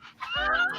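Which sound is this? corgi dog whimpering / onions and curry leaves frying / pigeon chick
corgi dog whimpering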